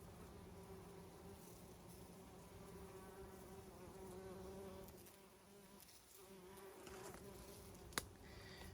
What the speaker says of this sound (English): see if you can hear the humming of all the bees